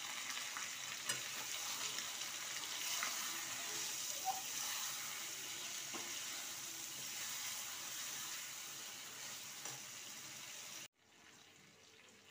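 Chicken pieces frying in a pan as chili and turmeric soaked in water are added, giving a steady close hiss and sizzle with faint stirring, ending abruptly into quiet.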